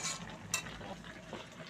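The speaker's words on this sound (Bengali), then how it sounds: "এই ইলিশ মাছের মাথাগুলোকে ভেজে নিচ্ছে।" Hilsa fish heads fry in a pan with a soft, faint sizzle, and a couple of brief utensil scrapes and stirs sound close by.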